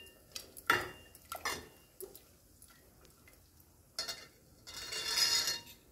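A spoon stirs chana dal and fresh coconut pieces in a metal pot for a sweet payasam. Irregular clinks and scrapes come up close, with short quiet gaps between the strokes.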